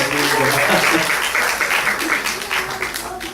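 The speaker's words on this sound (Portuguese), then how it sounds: "Aplausos para a Laiane." Audience at a panel discussion applauds a speaker, a dense, loud burst of clapping that holds steady and then begins to thin toward the end.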